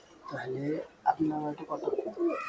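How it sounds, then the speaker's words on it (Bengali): Kuwaiti Teddy royal pigeon cooing close by, a few soft throaty coos in quick succession, with a voice talking around them. "এটা পিওর রয়্যালের কবুতর"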